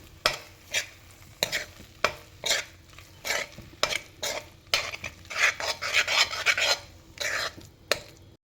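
Mango chutney with turmeric being stirred in a pan, heard as steady, rhythmic scraping strokes about twice a second, close and fairly loud, becoming denser and more sizzling toward the end, with no voices.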